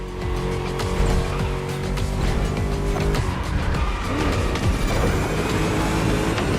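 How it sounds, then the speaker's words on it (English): A V8 car engine roars steadily in a racing game, a loud, continuous deep growl with shifting revs and some tire noise as the car drives a lap. "Just listen to that V8, like a chonky, down-tuned guitar riff."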